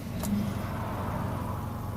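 A 1991 Volvo 240 out on a test drive, its engine a steady mid-pitched drone with road rumble from inside the car, fairly quiet and continuous with no voices.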